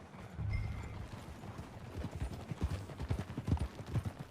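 Horse hooves clip-clopping at a ride in a video game, a quiet, steady run of rhythmic hoof strikes that grows denser and slightly louder toward the end, with no talk.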